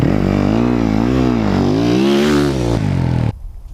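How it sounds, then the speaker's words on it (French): An enduro motorcycle revs hard and loud through a skidding U-turn, its engine note rising and falling in waves close by before cutting off abruptly near the end. "Faire le demi-tour en dérapage."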